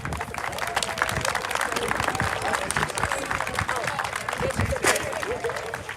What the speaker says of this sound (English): let's give a round of applause for the band